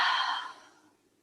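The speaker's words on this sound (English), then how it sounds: "Open mouth, exhale." A single breathy exhale through an open mouth during a yoga breathing exercise, soft and close, starting strong and fading away within about a second.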